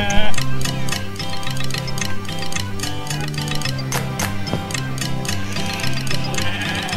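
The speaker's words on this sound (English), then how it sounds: "inside there's some different types of sheep" Sheep bleat repeatedly at a county show over a busy background of clinking and murmuring, the calls rising and falling in a rough rhythm.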